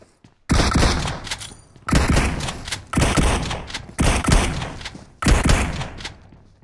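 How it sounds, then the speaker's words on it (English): Shotgun fire in PUBG Mobile: five loud, separate blasts about a second apart, each a sharp crack with a short decaying tail, and near-silence between shots. "He gets scared of my shotgun."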